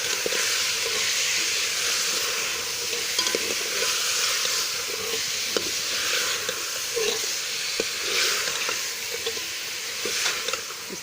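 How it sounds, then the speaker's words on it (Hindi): Whole spices frying in oil for beef korma, giving a continuous close hiss and sizzle with occasional scrapes of a stirring spoon, and no voices. "इस मसाले को हमने फ्राई करना है"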